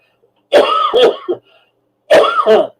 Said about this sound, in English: Boy, I'm really coughing.